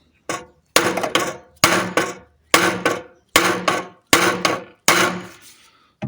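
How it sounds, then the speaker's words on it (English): Sheet metal on an Alfa Romeo 33 1.7 16V is hammered straight in about eight sharp, ringing blows, mostly in pairs, each fading quickly before the next, close and fairly loud. "So what I'll do is to straighten a bit here the sheet metal, so I can remove"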